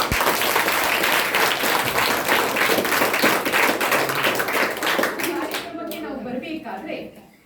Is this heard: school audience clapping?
yes